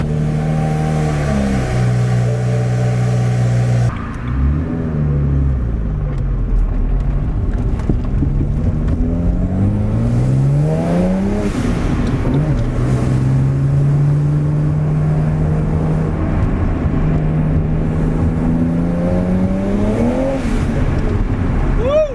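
BMW N54 engine running with a no-lift-shift and anti-lag tune, a loud close roar that drops after an early shift, then a steady drone rising and falling through repeated revs, with faint talk underneath.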